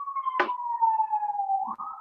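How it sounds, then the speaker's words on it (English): Ambulance siren passing by, a steady wailing tone sliding slowly downward in pitch as it moves off, with a brief clunk partway through and no talk. "sorry, there's an ambulance going by."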